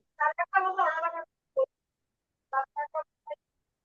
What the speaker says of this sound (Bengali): স্যামসাং ফোনটা কার উনি আওয়াজ করতেছে